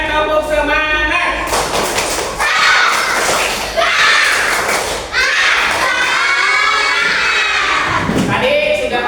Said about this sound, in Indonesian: Selanjutnya tepuk semangat.